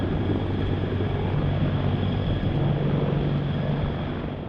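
A CH-53K heavy-lift military helicopter in flight, its steady loud rotor and engine roar filling the air continuously with a low throbbing hum, no voices.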